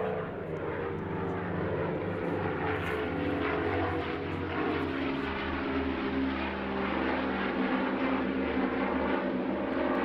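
An MD-311 navigation trainer aircraft with a glazed nose flies past at an airshow, its propeller engines giving a steady, loud droning hum that continues throughout.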